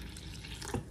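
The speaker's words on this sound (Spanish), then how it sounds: "Ahora sí, revolvemos y empezamos a agregar agua." Water trickling from a tap or being poured into flour and salt for huarache dough, a short close liquid splash with a slight gurgle near the end.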